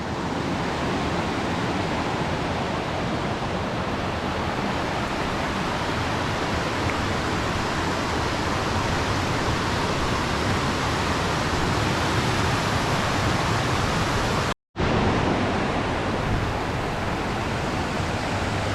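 Creek water rushes past Ely's Mill in the Great Smoky Mountains, a loud, steady broadband roar that continues without pause, broken only by a momentary dropout near the end.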